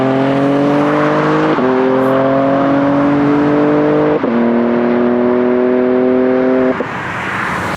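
A BMW G82 M4 with a valve-controlled exhaust, heard up close as a loud steady engine drone stepping up through several gear-like pitch rises, continuous and alone.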